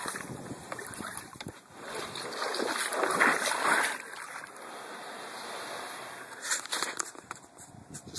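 A canoe is dragged by hand through shallow water, giving a close, swelling wash and scrape of hull and splashing for several seconds, with wind noise and scattered sloshes toward the end.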